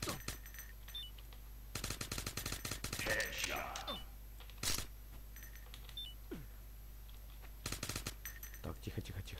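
Rapid bursts of gunfire from the Stickman and Gun 2 video game ring out in several separate volleys, sharp and close, with quieter game effects between the bursts.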